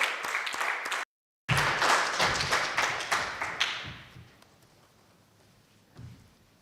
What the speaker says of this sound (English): Please give a nice round of applause for the presidents of the Environment Commission, Lasse and Konstantin.